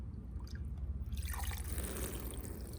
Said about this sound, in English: We've got this watering can with some holes nailed in the bottom